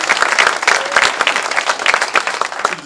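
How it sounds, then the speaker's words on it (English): Audience applause at a press event, close and energetic clapping from a crowd, with distinct individual claps standing out in the brief burst. "Please give another round of applause for Congressman Kelly."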